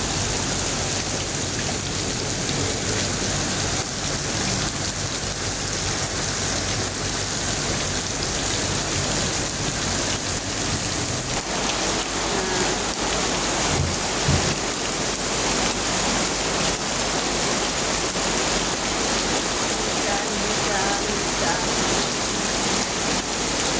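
Heavy rain pours down in a steady, dense roar that fills the whole stretch, loud and continuous with no pauses, a few low thumps surfacing midway.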